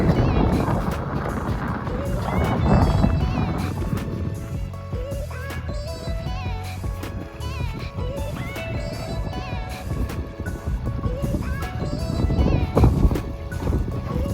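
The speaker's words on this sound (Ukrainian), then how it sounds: "Вітер дуже сильний." Strong wind roars and buffets the microphone continuously by the sea near a pier in Matinkylä, Espoo, with faint voices and background noise mixed in.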